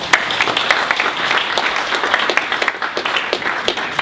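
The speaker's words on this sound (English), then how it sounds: "All right, let's give a round of applause to all 3 of our first pitches." Audience at a tech startup pitch competition applauds loudly, many hands clapping in a dense, continuous burst with sharp individual claps standing out, lasting several seconds without speech.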